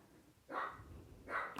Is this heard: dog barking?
yes